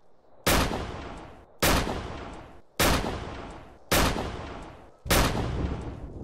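Five loud gunshots in DayZ on an MTA server ring out at roughly one-second intervals, each a sharp crack trailing into a decaying echo, with no talk over them.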